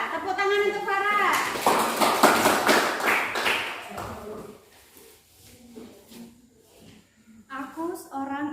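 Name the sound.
applause for Farah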